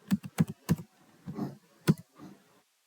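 Crisp computer keyboard keystrokes come in a quick burst of three, then a softer rattle and a single firm key press like Enter, close and clear with no talking.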